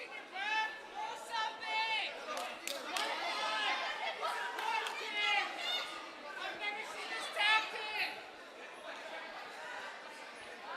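Crowd chatter and cheering at a live fight event, a steady babble of many voices that swells in waves across the whole stretch, with no one voice standing out.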